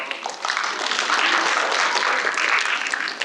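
A room full of people claps together, a dense burst of applause that builds quickly, holds steady for a few seconds, then tapers off.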